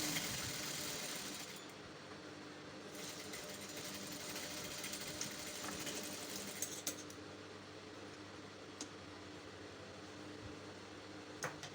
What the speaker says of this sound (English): I'm just going to go ahead and sew that using 1/4 inch sewing